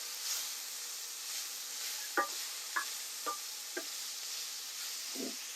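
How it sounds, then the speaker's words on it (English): Lamb mince fries in a pan with a faint constant sizzle while a utensil stirs and breaks it up, giving several short scraping taps spaced about half a second apart, without speech. "Keep breaking that mince up as well."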